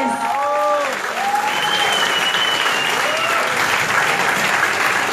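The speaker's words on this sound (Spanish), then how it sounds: "un aplauso para todos los ganadores" An audience applauds award winners at a festival closing ceremony, dense sustained clapping from a crowd close by, with a voice speaking over the start.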